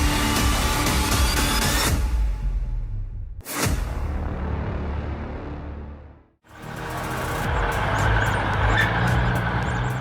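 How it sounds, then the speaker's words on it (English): A 1973 Kenworth logging truck engine rumbles deep and loud in the forests of Granite Falls, cut by two brief breaks before resuming, with no talk. "The raw torque, the deep rumbling engine."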